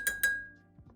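Birds tapping their beaks on the glass of a sliding door, two sharp ringing clinks in quick succession that fade, followed by faint low knocks.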